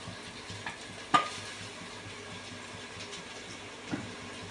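Ground small onions frying for chicken biryani, a soft steady sizzle under a low hum, with a sharp stirring clink about a second in and another faint scrape near the end.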